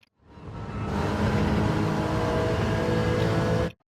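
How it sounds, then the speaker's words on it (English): Gr.4 race car in Gran Turismo at Blue Moon Bay Infield A, engine revving loud and steady as the throttle is feathered and reapplied through a brief brake tap, lasting about three seconds with no talk. "I'm literally tapping the brakes and going back on the throttle right now"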